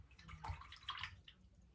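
Fresh water is poured into a container for cleaning paint or makeup brushes, giving faint splashing and trickling in short irregular bursts, close by and quiet, with no speech.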